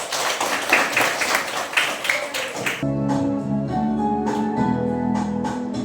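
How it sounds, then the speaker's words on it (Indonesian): A class of fourth-grade pupils clapping their hands together, a quick cluster of uneven claps for a few seconds before it gives way to singing and music. "tepuk tangan dulu."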